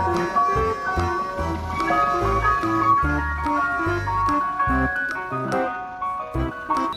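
A toy ice cream truck plays its looping melodic jingle steadily and fairly loudly, with no talking over it.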